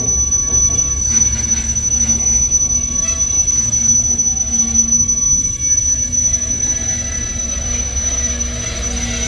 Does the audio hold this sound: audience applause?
no